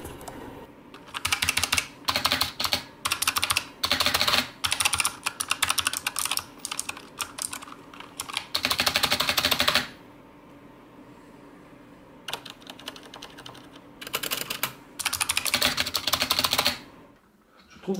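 Fast typing on a Razer Huntsman Mini compact gaming keyboard comes through as dense, crisp, close-up bursts of keystrokes, broken by a few short pauses.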